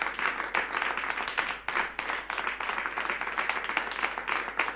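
Concert audience at an acoustic evening applauding steadily, a thick, continuous wash of many hands clapping throughout at a moderate distance.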